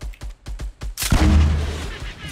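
Gunfire in the Fortnite Battle Royale video game: a string of five or six sharp rhythmic shots, then a loud booming blast with a rumbling tail, close and punchy with no talk.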